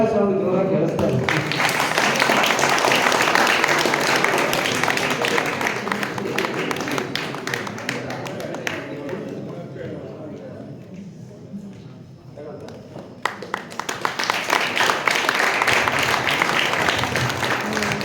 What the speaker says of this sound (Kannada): ಚಪ್ಪಾಳೆ ಸೌಂಡ್ ಜೋರ ಕೇಳಿಸ್ತಾ ಇದೆ.